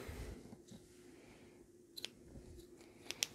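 Scissors snip through knitting yarn during sock knitting, with two or three faint, quick clicks close by against a quiet room.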